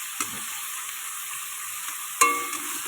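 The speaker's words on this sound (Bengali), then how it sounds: "আমি একটু লাল লাল করে ভেজে নেবো এগুলো আগে এই যে সুন্দরভাবে ভাজতে হবে চিংড়ি মাছগুলো" Shrimp fry in oil in a pan with a steady bright sizzle, punctuated by two sharp stirring scrapes, the second louder.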